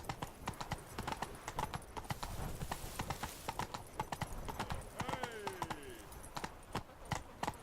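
Horse galloping in The Witcher 3, with rapid, loud, rhythmic hoofbeats close by, a brief whinny midway and a game character speaking over the hooves.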